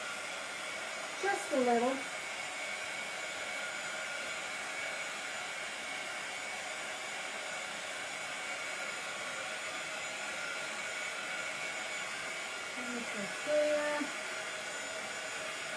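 A hair dryer blows steadily on a decoupage napkin glued to a glass jar, its even, close whir running the whole time while a voice briefly speaks over it near the start and end.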